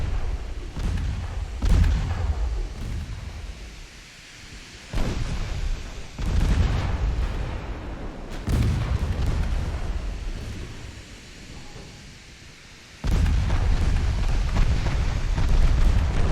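Warship main guns fire in Ultimate Admiral Dreadnoughts during an 1893 Ottoman campaign battle, several heavy booming salvos spaced seconds apart, each with a deep rolling rumble that fades before the next loud report.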